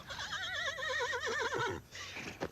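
A horse gives a loud, close whinny, shrill and wavering, before it trails off, in a horse-racing advert.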